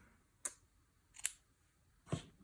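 Scissors cut a tiny piece of fusible web for a quilting project, giving three sharp, close snips at uneven intervals against near silence.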